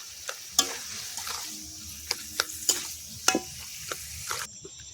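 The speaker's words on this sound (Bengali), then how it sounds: "এগুলো দিয়ে আমি নেড়ে দিলাম" Taro leaves and prawns with salt, turmeric and tamarind are stirred in a pan, a quiet sizzle under a run of distinct spoon scrapes and clinks against the metal.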